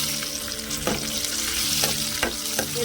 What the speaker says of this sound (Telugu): వెల్లిపాయ, ఎండుమిర్చి బాగా వేగాలండి. అది వేగితేనే, తాలింపు వేసుకుంటేనే మనకి స్మెల్ వస్తుంది